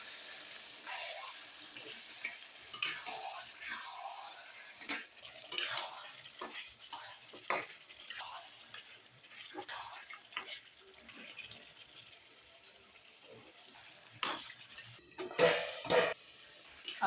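Chicken coated in spices is stirred in a pan, with intermittent scraping and clattering strokes of a spoon coming in uneven bursts, quieter in the middle and busier near the end.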